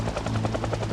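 A helicopter hovers overhead in the video game Project Zomboid, its rotor beating in a steady, fast rhythmic thump that runs continuously and fairly loud, with no voices over it.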